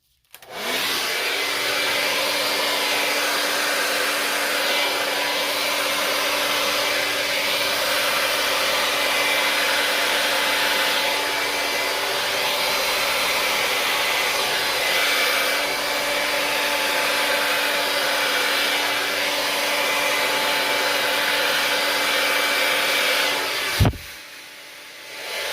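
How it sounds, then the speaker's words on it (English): A blow dryer whooshes steadily over tiles for about twenty-four seconds with a constant hum, then cuts off abruptly with a brief clunk near the end. "a little bit of the blow dryer"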